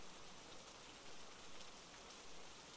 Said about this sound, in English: the rain makes it perfect for sneaking and stealing.